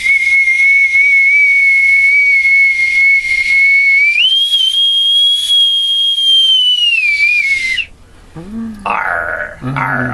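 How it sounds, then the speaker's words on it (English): A bosun's whistle pipes a long, loud, shrill sustained tone that bends upward to a higher pitch partway through and then cuts off abruptly, followed by brief noises. "with my bosun's whistle"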